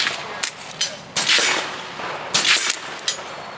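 Suppressed firearm shots fired at a range target: a few sharp, muffled cracks spaced over a few seconds, moderately loud, with quieter handling noise between them.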